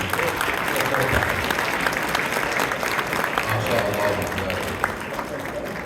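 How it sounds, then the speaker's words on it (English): A crowd at an annual coalition brunch applauds Imam Yusuf, a loud sustained round of clapping from a roomful of people that carries evenly from start to finish. "Please, one more round of applause for Imam Yusuf"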